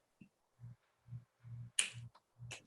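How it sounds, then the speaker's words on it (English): A single crisp finger snap cracks out sharply during a podcast recording, standing out against soft, quiet thumping pulses around it. "feel like that needed a finger snap."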